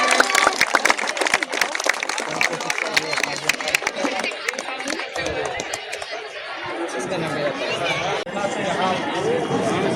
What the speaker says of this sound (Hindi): एक जोरदार ताली से बच्चे का स्वागत करें, उत्साह वर्धन करें